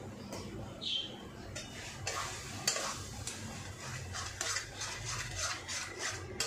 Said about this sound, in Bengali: এবার এটাকে ভালো করে কষাতে হবে।